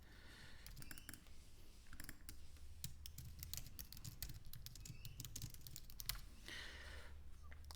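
Keys clatter on a computer keyboard in quick irregular bursts of taps, close and fairly quiet, with short pauses between runs of typing and a low hum underneath.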